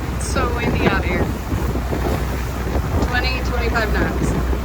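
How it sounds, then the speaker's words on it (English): Strong wind gusting and buffeting around a Nordhavn boat crossing the bay, loud and continuous against the microphone, with water noise beneath and people talking intermittently. "So windy out here."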